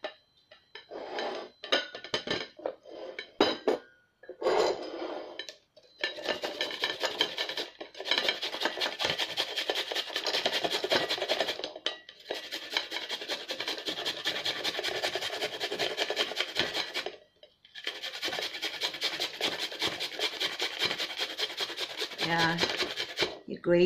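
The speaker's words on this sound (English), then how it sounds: "So we'll be grating our ginger." Fresh ginger rasped back and forth against a grater in long continuous bursts of scraping, loud and close, with brief pauses between runs.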